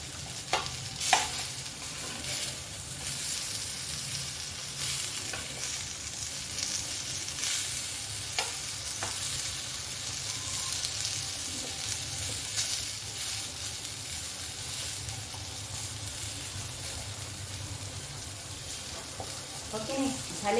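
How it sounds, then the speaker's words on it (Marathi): Kothimbir vadi shallow frying in oil on a tava, a steady soft sizzle and crackle throughout with occasional faint clinks of a utensil. "तव्यावर असं छान होतं फ्राय करतो"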